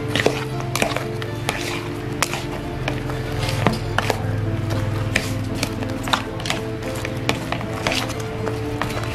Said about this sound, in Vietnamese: Mình sắc nhỏ vui nha các bạn